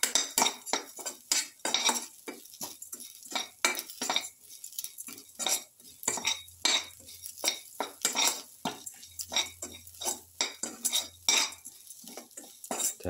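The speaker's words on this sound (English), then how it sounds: "keep on sauteing." Fish brindleberry stew being sauteed in a pan, with a utensil repeatedly scraping and clinking against the metal in irregular bursts, fairly close and alone without talk.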